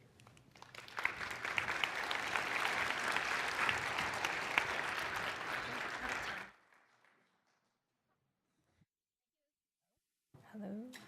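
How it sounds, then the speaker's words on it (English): A conference audience at PyCon applauds a speaker after a Python talk, a loud, sustained round of clapping that swells and then cuts off into near silence, followed by a voice. "Let's give another round of applause to Guillermo, our speaker"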